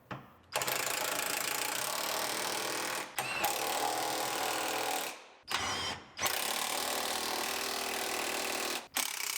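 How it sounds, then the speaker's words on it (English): A power tool whirs in long, loud bursts while bolting parts onto a 2013 Buick Enclave AWD, with short pauses between runs and no talking. "And we can start bolting it in."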